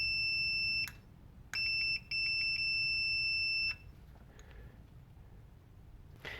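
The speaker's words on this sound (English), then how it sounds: "it should beep" An electronic beeper on a 2005-2012 Subaru being tested during P0028/P0026 diagnosis, sounding as its wire touches ground: one short beep, then a longer tone and a sustained steady beep lasting about two seconds, clear and close.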